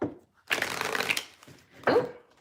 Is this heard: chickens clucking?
no